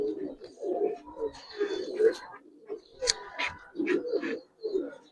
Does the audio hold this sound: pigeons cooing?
yes